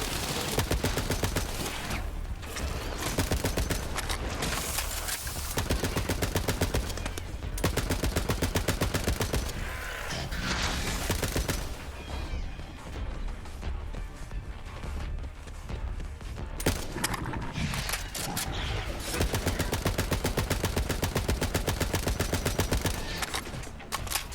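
Gunfire in Borderlands 3 rattles almost without pause, with dense automatic bursts and shots stacked over busy game effects, loud and continuous, with only brief dips between volleys.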